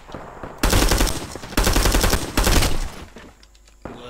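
Bursts of automatic gunfire from an M14 rifle and an M3 grease gun in the Vietnam War video game Rising Storm 2: Vietnam, three loud rapid volleys close by with short gaps, then a quieter tail.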